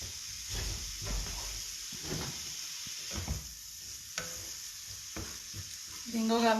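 Three ingredients sizzle and fry in ghee while being stirred, a steady crackling hiss with scraping stirs throughout, louder bubbling near the end.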